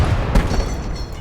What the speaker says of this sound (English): That's a grenade coming in.